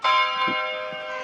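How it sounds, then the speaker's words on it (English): A church bell in Bremen, Germany, rings with a bright, sustained tone that hangs and slowly fades, loud and fairly close, with no talking. "The bells are ringing, it's nice."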